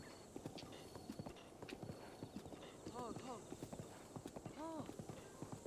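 Hoofbeats of a horse in Zelda: Breath of the Wild clip-clop in a steady gallop, with brief whinnies and snorts rising over the rhythm and speech faintly underneath.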